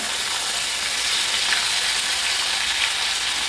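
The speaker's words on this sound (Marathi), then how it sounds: "खडे मसाले घातल्यानंतर लगेचच आपण कांद्याची पेस्ट घालून घेऊया" Raw onion paste fries in oil with whole spices for dhaba-style shahi paneer, giving a brief, even, loud sizzling hiss with no pauses.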